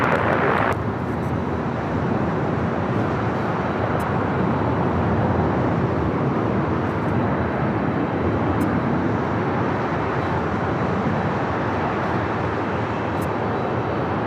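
A jet airliner taxiing on taxiway Alpha at LAX, heard from Imperial Hill, makes a loud, steady broadband engine rumble and roar that holds constant throughout with no breaks.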